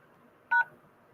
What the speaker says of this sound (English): press the pound sign to send your SMS notification